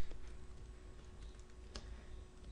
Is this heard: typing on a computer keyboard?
yes